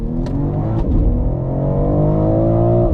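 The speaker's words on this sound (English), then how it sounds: "Looks like I'm starting out in this X4M competition." A BMW X4 M Competition engine revs steadily and loud on a track, pitch climbing smoothly as it accelerates, with a brief throaty burst near the start.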